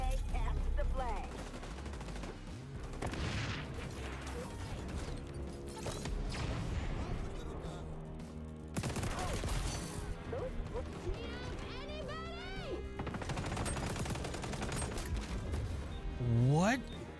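Gunfire in the online shooter XDefiant, played in a capture-the-flag match: bursts of rapid shots and mechanical weapon clatter come and go amid game effects, with voices talking over parts of it.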